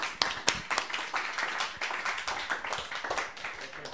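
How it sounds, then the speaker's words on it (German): Applause from a small group in a radio studio, a dense run of hand claps with sharp individual slaps, steady and fairly close for several seconds. "Und es gibt auch mal einen Kraftdenk-Applaus nochmal."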